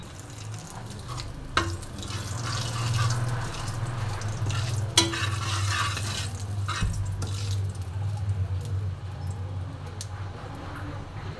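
Spice tempering fries steadily in a pan, a continuous close sizzle with a low hum beneath and occasional sharper clinks and pops as it is stirred; no voices.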